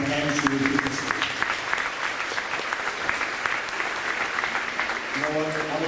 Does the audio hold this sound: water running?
no